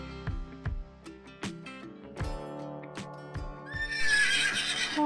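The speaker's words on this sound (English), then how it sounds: "H-O-R-S-E, horse. It runs very fast." A horse neighs in a long whinny while hooves clip-clop steadily, the neigh rising to a bright, shrill peak near the end, close and clear with no talking.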